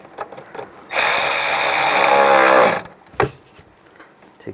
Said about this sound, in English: And tighten this one down.